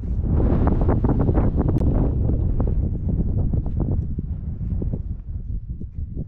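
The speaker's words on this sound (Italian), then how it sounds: "A tratti gira tantissimo vento." Strong mountain wind on Monte Nuria buffets the microphone in loud, continuous rumbling gusts that dominate the whole stretch, with no talk over it.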